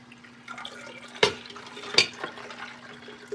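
Water runs steadily from a tap to fill bath water, a soft continuous stream punctuated by a couple of sharper clinks and splashes, close by and with no talking.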